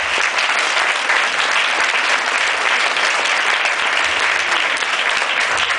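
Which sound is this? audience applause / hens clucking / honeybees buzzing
audience applause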